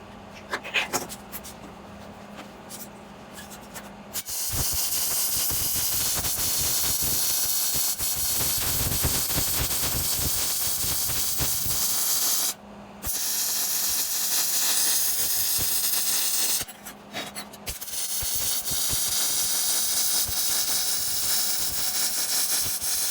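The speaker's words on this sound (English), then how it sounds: "Now I'm gonna flip this thing over and weld the other side." Welding on an aftermarket OBP pedal box with studs, a steady dense hiss and crackle running for long stretches with brief pauses between beads, loud and close.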